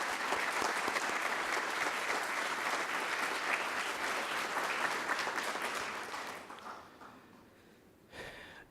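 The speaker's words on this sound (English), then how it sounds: "may you please give her a round of applause" An audience at a 2017 college colleague awards ceremony gives a loud, full round of applause that holds steady for several seconds, then fades and dies away into near quiet with a brief rustle at the end.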